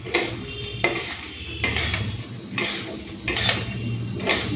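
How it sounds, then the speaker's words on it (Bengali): Rice lightly frying in a pot for pulao, heard as repeated scraping and clinking of a metal spoon against the pot in uneven bursts, with a soft sizzle underneath and no speech. "চালটাকে হালকা একটুখানি ভেজে নিই"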